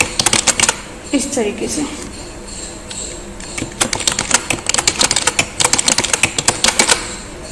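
Quick bursts of computer keyboard typing as data is entered, clattering in uneven clusters after a stretch of someone talking, then continuing in rapid runs of keystrokes.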